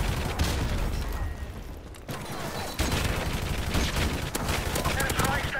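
Rapid automatic gunfire shooting through a wall in Call of Duty Modern Warfare Remastered, dense loud bursts that break off briefly, then resume hard, with voices talking in between.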